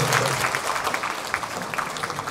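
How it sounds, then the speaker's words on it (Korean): Enthusiastic audience applause at a Korean singer's album launch event, welcoming a lyricist and composer of hit songs to the front; dense, steady clapping from a sizeable crowd fills the whole stretch without letting up. "우리 큰 박수로 와주시면 감사하겠습니다."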